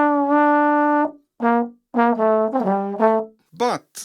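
Trombone playing a jazz turn, a sustained tone followed by short slurred notes and a quick falling flourish at the end; close and solo, no talking.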